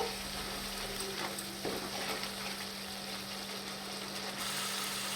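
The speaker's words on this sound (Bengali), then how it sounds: "কাশ্মীরি লঙ্কার গুঁড়ো লাল লঙ্কার গুঁড়ো আর গরম মশলার গুঁড়ো ওটা আমি দিয়ে দেবো দিয়ে ভালো করে মিশিয়ে নেব" Chilli powder and garam masala are stirred into hot oil in a pan for a pea and potato curry, giving a steady, moderate sizzle with occasional scraping stirs throughout and no voices.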